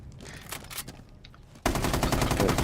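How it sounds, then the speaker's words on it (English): Video game gunfire: a few scattered shots, then an abrupt, loud burst of rapid automatic fire that runs steadily to the end. "shoot it 2 more times with 2 more bullets"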